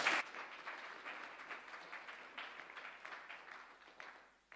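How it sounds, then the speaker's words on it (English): A small church audience at a Sunday service gives brief, soft applause that fades over a few seconds. The scattered clapping sounds somewhat distant. "A round of applause."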